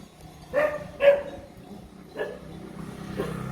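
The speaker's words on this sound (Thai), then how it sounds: "เห่าอะไรเห่ารถหรือเห่าหนู" A dog barks twice in quick succession, then gives two fainter barks after a pause, moderately close, outdoors at a historical park in Thailand.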